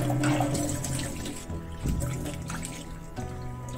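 Dates being rinsed under a running tap, a steady trickle and splash of water continuing close by for a few seconds, with a brief louder gush partway through and no talking.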